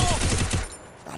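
Rapid bursts of gunfire in the battle royale game Free Fire, a quick run of sharp repeated shots for the first half, then fading into low background noise.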